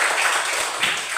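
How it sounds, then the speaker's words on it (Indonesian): Students in a classroom give a brief burst of steady clapping for three boys, a short wash of hand claps with no speech over it. "Kita beri tepuk tangan untuk mereka dulu."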